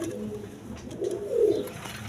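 Coloured pigeons kept for sale at a wholesale pigeon seller in Bangladesh give soft, low coos, a couple of murmuring calls that swell near the end against quiet background noise.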